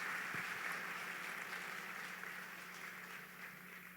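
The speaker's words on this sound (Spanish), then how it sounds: "Dele un aplauso a Dios" A church congregation applauding in a sustained, fairly quiet wash of clapping that slowly fades over a few seconds, with a low steady hum beneath.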